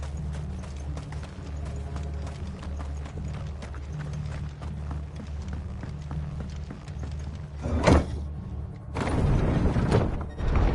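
Horses gallop in the video game Final Fantasy XVI, a continuous clip-clop of hooves at a steady pace with a low rumble, moderately faint, followed by a louder rushing burst near the end.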